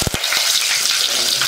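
Fenugreek and mustard seeds splutter in hot coconut oil, giving a steady, close, broadband sizzle with a few sharp pops at the start.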